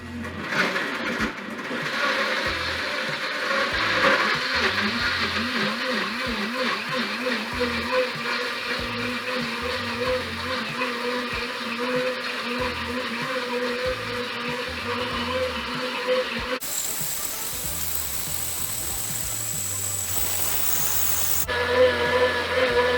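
A blender heating and blending vegetable soup on its hot cycle runs loudly and steadily, its motor whirring with cyclic pulsing, then shifts to a harsher roar for several seconds before settling back to the steady drone.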